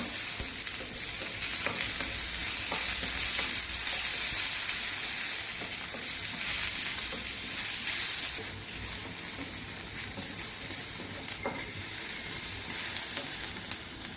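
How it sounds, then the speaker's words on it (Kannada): Chopped onions sizzle steadily in a pan while being stirred until browned for a South Indian onion gojju, with a dense, continuous hiss and occasional scraping stirs, close and fairly loud with no talking. "ಈರುಳ್ಳಿ ಚೆನ್ನಾಗಿ ಫ್ರೈ ಆಗಿದೆ, ಕರಿ ಬಣ್ಣಕ್ಕೆ ಬಂದಿದೆ"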